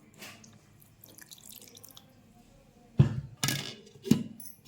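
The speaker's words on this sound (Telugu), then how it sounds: "కొద్దిగా మిక్సీ తిరగటం కోసం ఈ చింతపండు నానబెట్టిన నీళ్ళే వేసుకుందాం" Soaked tamarind water poured into a mixer jar, a few short splashing pours and thunks close by after a quiet start, with no talk.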